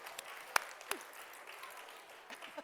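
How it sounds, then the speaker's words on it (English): Scattered, fairly faint clapping from a group of children and adults at a reading and writing event, with a few sharper claps and small voices poking through the brief patter. "Well done, round of applause for everyone."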